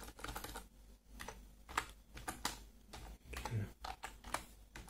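Soft, steady keystrokes patter on a computer keyboard in a quiet room, irregular clicks following one another without pause.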